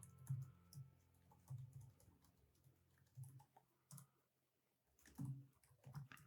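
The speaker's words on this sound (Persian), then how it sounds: "یک بار دیگه تایپش میکنم" A password is typed on a computer keyboard, soft scattered key clicks in short irregular bursts, quiet and close, with no talking.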